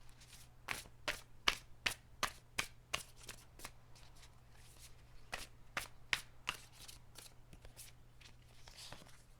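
Tarot cards being shuffled by hand, a quiet run of crisp riffling flicks and slaps at an uneven rhythm under a low steady hum, close and soft, with no talking.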